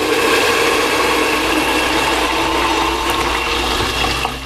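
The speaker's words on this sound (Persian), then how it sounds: "آبشو میریزم" Water poured steadily from a kettle into a cooking pot holding chickpeas and beans for ash reshteh, a loud continuous rushing splash that runs for the whole stretch with no talking.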